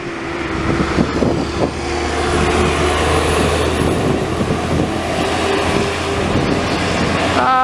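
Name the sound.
traffic and machinery from road paving operations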